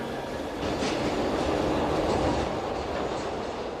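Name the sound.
underground train running on rails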